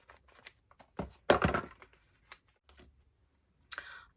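Plastic packaging around a foundation brush is cut and pulled open, giving quiet crinkling and tearing with one louder rustling burst near the middle and brief snips and rustles scattered around it.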